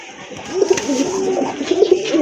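A pair of pigeons, a hen and a cock of a marked fancy breed offered for sale, coo in soft, repeated low phrases close by, with other faint bird calls in the background and no talking.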